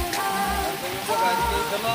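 Heavy rain pours down steadily in rural Odisha, a dense continuous hiss of water striking surfaces, close and loud throughout with no talk.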